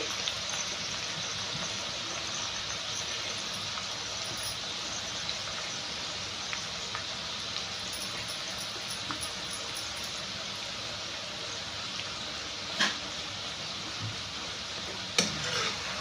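Garlic and asafoetida with curry leaves frying in oil for a tomato chutney, a steady soft sizzle with faint crackle running throughout, broken by a couple of brief clinks near the end.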